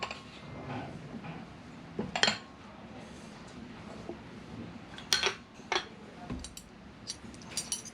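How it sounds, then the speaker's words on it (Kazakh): Plates and dishes clatter in a busy Korean restaurant, with scattered clinks and knocks of crockery and cutlery, some sharp and near, over a steady murmur of background noise. "Не деген көп тарелка."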